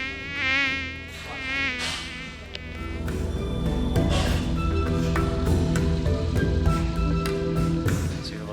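A housefly buzzing right in front of someone's face at a temple in Angkor Wat, Cambodia, its whine rising and fading up close, then joined by a denser background hum.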